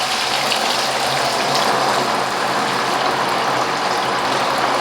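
A Parkside PRP 400 B1 water barrel pump runs, sending a loud, steady gush of water that holds constant throughout with no pauses or talk.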